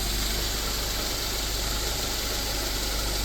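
A car engine with Bosch K-Jetronic fuel injection idles steadily while still warming toward operating temperature, a continuous even hum and rattle close to the microphone, with no voices over it.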